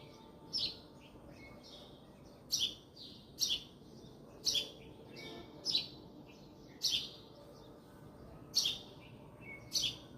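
Birds chirp in a home flower garden planted with parijatham, giving short, bright calls in about eight distinct bursts over a soft, steady background.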